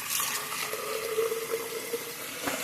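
Tap water runs steadily into a coffee maker carafe held under a kitchen sink faucet, a close, continuous splashing and filling sound with no talk.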